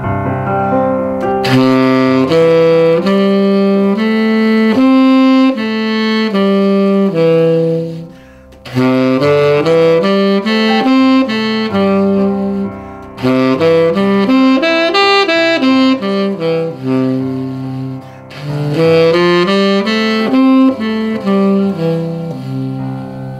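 A saxophone plays a major pentatonic scale over a sustained backing chord, rising and falling in smooth, legato phrases with brief pauses between runs, loud and close.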